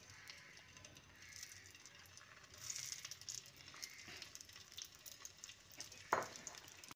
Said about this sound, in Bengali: এবার গরম তেলের মধ্যে নুন হলুদ মাখানো পটলগুলো একে একে ছেড়ে দিচ্ছি।